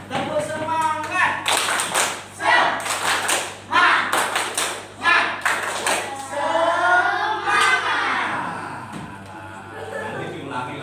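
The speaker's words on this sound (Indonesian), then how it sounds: "Tepuk semangat." Children in a classroom perform a rhythmic spirit clap, bursts of loud hand claps in patterned groups mixed with chanting voices and a few taps and thuds, the claps near and lively against ongoing speech.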